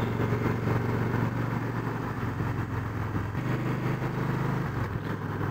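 A motorcycle cruises along back roads, its engine droning steadily and fairly close, with a constant mid-pitched rumble and rushing wind throughout and no talk.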